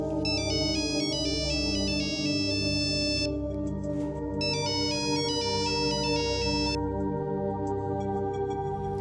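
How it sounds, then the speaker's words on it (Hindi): A telephone ringtone sounds loud and close, a repeating electronic melody in two bursts with a short gap between, playing continuously for about nine seconds without talk. "ये लो, राबे की नानी का फोन है।"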